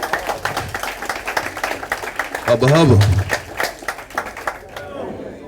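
Luncheon club audience applauding a college football head coach with scattered clapping, while someone speaks briefly over it and the crowd noise swells, then tapers off.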